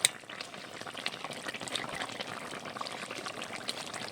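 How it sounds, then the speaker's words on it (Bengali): Cumin and chili paste being stirred into a simmering fish curry with potato and tomato in a pan, giving a steady bubbling sizzle with soft scraping stir strokes, close and moderately loud with no talking. "এটা দিয়ে দিচ্ছি, দিয়ে আর একটু ফুটিয়ে লাবিয়ে নিচ্ছি।"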